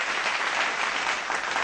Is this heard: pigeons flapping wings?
no